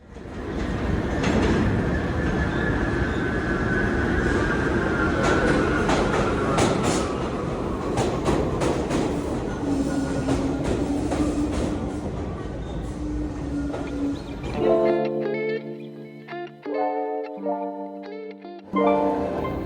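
A New York City subway train rumbles and clatters along the tracks with a rising whine, then loud sustained tonal chimes and horn-like notes ring out near the end.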